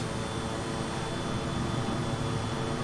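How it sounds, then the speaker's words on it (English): Airplanes fly nearby in a flight simulator video game, a steady, low, droning engine roar that stays faint and even throughout, with no voices. "can hear lots and lots of airplanes around."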